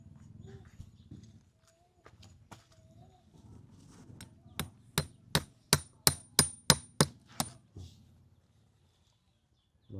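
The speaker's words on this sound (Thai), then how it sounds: "ตอกลงเลยก็ได้" A run of about a dozen sharp, evenly spaced hammer blows, loud and close, following quieter voices and clatter.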